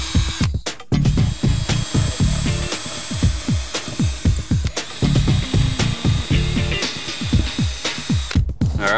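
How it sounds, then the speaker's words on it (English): A power drill bores holes through wooden kitchen cabinet doors to mount hardware, in repeated short whirring bursts close up, with steady broadband noise beneath and no talking. "that's where we're gonna drill a hole through to put your new hardware on there"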